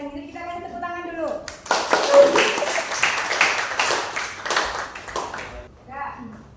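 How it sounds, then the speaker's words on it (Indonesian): A classroom of students bursts into clapping for about four seconds after a teacher speaks, with a lively, uneven burst and talk before and after. "Kita kasih tepuk tangan dulu."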